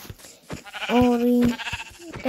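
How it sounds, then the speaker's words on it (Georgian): A sheep in the Minecraft video game gives a single clear, wavering bleat at close range, framed by short clicks and thumps of game actions before and after. "მოდი ეს სამი ცხვარიც მოვკლათ."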